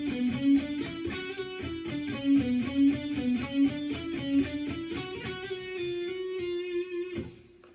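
A distorted electric guitar plays an intro riff of quick repeated picked notes in a steady rhythm, then lets a final chord ring out and fade.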